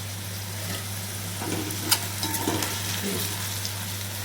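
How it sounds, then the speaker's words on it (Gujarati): Steady sizzle of okra frying in hot oil, with soft stirring scrapes and a light clink or two. "સવારના ભીંડાનું શાક વઘારી નાખ્યું છે"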